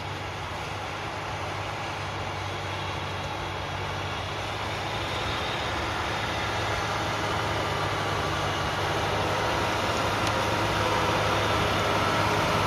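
A heavy tractor diesel engine drones steadily at constant load while working a field, a continuous low rumble with broadband noise and no pauses.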